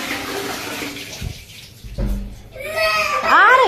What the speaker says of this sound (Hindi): पानी चल रहा है